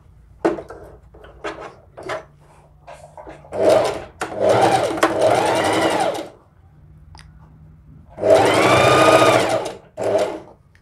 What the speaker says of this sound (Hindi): धीरे धीरे हमें कपड़े को सेट करते हुए सिलाई करनी है